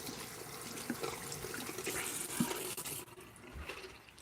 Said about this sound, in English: while waiting for the water to fill up